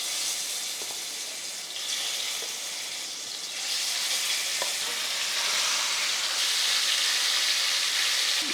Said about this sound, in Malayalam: നമ്മൾ മാരിനേറ്റ് ചെയ്ത് വെച്ചേക്കുന്ന ചിക്കൻ കുറച്ചൊന്ന് ഫ്രൈ ചെയ്യണം